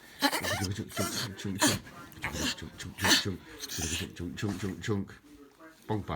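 A small pet dog whimpers and pants softly while a person chatters to it in a playful sing-song voice almost continuously, the dog's faint whines surfacing between the words.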